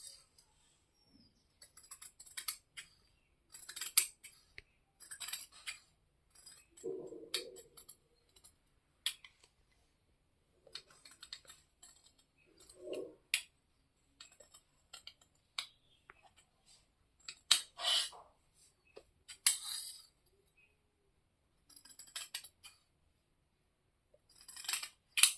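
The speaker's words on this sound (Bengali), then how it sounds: "এবার আমরা কাপড়টাকে কেটে নেব" Scissors snipping through cloth while a half pant is cut out, heard as scattered, faint, close clicks and crisp snips in short bursts separated by quiet pauses, with a brief soft voice in between.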